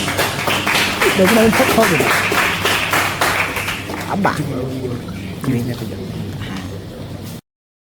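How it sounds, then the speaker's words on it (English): Audience applause in a hall at a university final-year project defense session, a steady patter of clapping hands that swells early, then thins and fades out as a voice talks over it. "A round of applause, please."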